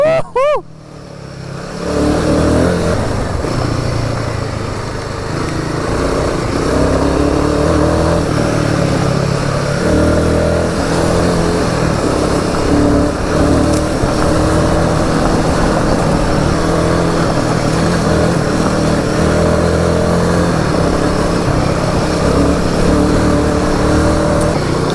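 Royal Enfield Himalayan 450 motorcycle riding off-road, a loud, close engine drone with shifting revs and wind buffeting that runs continuously after a brief start, with no clear speech over it.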